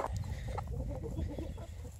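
Chickens cluck softly and continuously in the background amid low, steady outdoor noise, with no speech.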